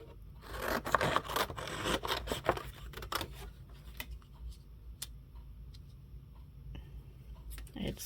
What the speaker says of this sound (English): And then I'm going to cut a piece off here.